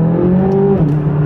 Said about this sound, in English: So we'll do a little acceleration here when the road clears out.